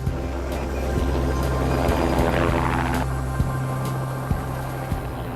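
A rescue helicopter hovering over water near Venice, a steady, moderately loud rotor thrum with a low pulsing beat and a few sharp clicks throughout, heard without talk.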